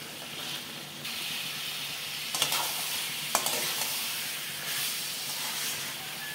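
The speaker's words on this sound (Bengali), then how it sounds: "কষাতে কষাতে পুরো ড্রাই করে নিতে হবে।" Chicken pieces being stir-fried dry in a pan with butter for chicken rezala with papaya, a steady close sizzle and hiss with a few sharp scraping clicks from stirring, no voices.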